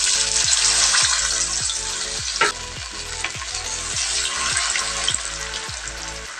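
Bangus milkfish frying in very hot oil gives a loud, steady crackling sizzle, with repeated stirring or pan movements heard close up and no talking.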